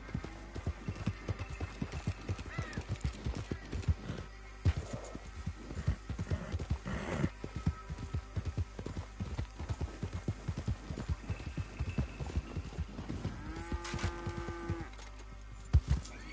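A horse gallops in Red Dead Redemption 2 with rapid, rhythmic hoofbeats at close range that run the whole time, and a short whinny near the end.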